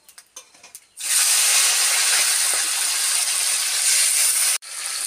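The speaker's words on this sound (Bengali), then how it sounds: "দিয়ে এবার টমেটোগুলো ভেজে নেব" Tomatoes hit hot oil seasoned with panch phoron and bay leaf, bursting into a loud, continuous sizzle after a few light clinks, then briefly cutting out before resuming.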